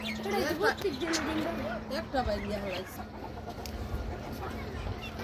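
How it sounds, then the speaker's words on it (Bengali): Backyard chickens cluck in a close, busy chorus of warbling calls over the first few seconds, then trail off into sparser clucks as a person talks over them. "এই যে আমার মুরগিগুলো ছাড়ছে আজকে"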